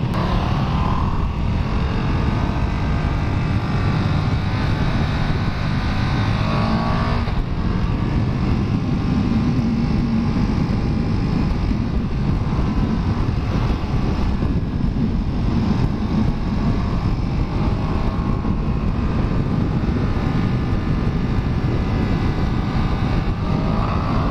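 A 2017 KTM Super Duke R is ridden on the road, its engine a continuous loud roar mixed with heavy wind rush, the tone shifting through gear changes, with no talk.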